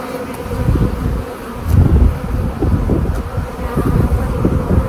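Honeybees buzz around a frame lifted from a hive during a drone-laying queen or laying-worker fix, a dense, continuous low drone that swells at moments, loud and near, with no voices.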